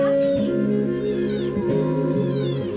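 A cat meows repeatedly at a garden farm resort, several drawn-out, wailing cries in close succession, loud and near, with no talk over them.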